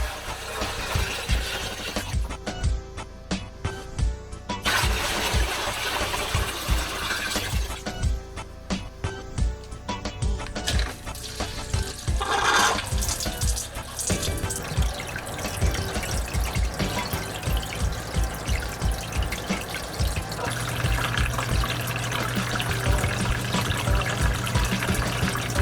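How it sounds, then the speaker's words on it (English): Water pumped through the channels of a homemade hydroponic system trickles and splashes steadily, with continuous flowing and dripping sounds close by and a lower pump hum joining toward the end. "Now we can fill the reservoir, turn on the pump"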